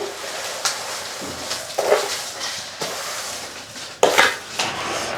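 A spoon stirs and scrapes around a metal pot of vermicelli and sago boiling in milk for payasam, with irregular clanks and soft sloshing, close up and without talking.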